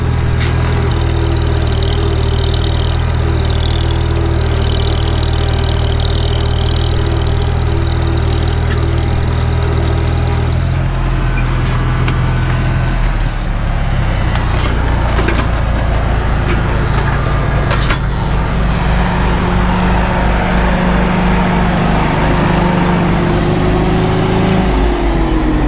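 An IH Super W-4 tractor engine runs steadily and loud out in a field, a strong low even rumble without a break, its note shifting slightly partway through.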